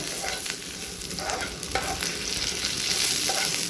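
Chicken pieces seasoned with a little salt sizzle in a pan while being stirred, a steady dense frying hiss with repeated scraping strokes close by.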